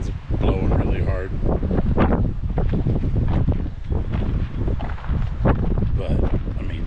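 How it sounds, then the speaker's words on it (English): Strong wind gusting hard across a rocky, uneven creekside campsite, a steady loud roar buffeting the microphone throughout, with speech over it. "Wind's blowing really hard."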